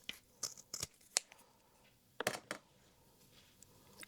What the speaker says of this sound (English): And I also cut the long edge.